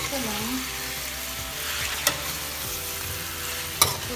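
Salmon head miso sinigang stirred in a pot, with a steady simmering sizzle and two sharp clinks of a utensil against the pot, close and clear, with no talk.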